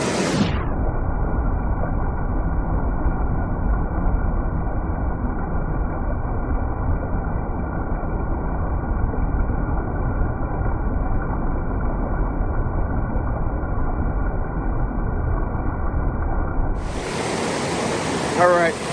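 Water rushes continuously through a gold sluice box outdoors, a loud, steady broadband wash that ends with a brief shift in the flow near the close.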